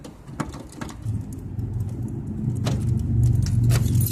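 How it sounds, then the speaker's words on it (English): Metal scraping and jangling as a screwdriver is pushed into a car door lock, a few sharp clicks and rattles over a rising low rumble, close and fairly loud. "Take your screwdriver, put it in the lock."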